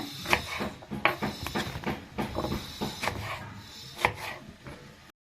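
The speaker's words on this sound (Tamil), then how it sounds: "ஸோ தோலும் விதையும் நீக்கிட்டு இப்படி சின்ன சின்ன பீஸா கட் பண்ணி எடுத்துருங்க." Peeled, seeded ash gourd being chopped into small pieces with a knife on a board, a run of close, uneven knocks roughly every half second; no talking.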